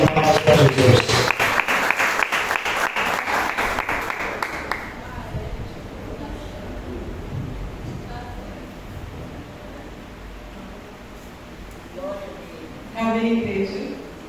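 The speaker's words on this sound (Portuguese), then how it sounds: "Uma forte salva de palmas para Jesus" A church congregation at an Easter service applauds together, a loud dense clapping for about five seconds that then fades, after which a voice speaks and a short second burst of clapping comes near the end.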